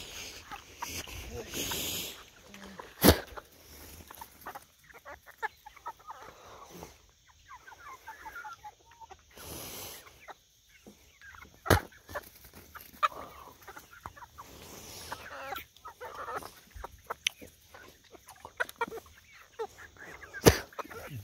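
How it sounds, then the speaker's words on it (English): Chickens cluck in a homestead chicken garden in the morning, with scattered clucks and squawks near and far and a few sharp calls, mixed with intermittent voices. "It's chicken garden right there."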